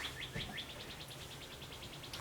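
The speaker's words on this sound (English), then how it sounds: "Hear the birds." Springtime birds chirping outdoors, a steady run of short, high tweets repeating in a quick, even rhythm at moderate distance over faint background hiss, with no talking.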